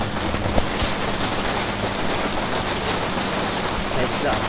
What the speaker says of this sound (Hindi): बारिश की वजह से आवाज होती है